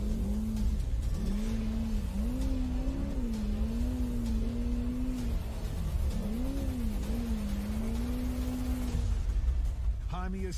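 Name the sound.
off-road race car engine revving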